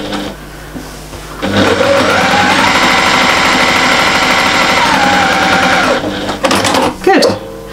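A sewing machine stitches the lining and outer fabric of a toilet bag together, whirring in a loud, steady close run for about four seconds before slowing with a few short bursts at the end.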